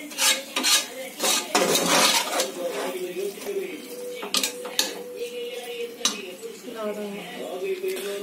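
Crab gravy cooking in a pan over full flame, with stirring and scraping of a utensil against the pan and faint sizzling throughout, loud near clatters at intervals.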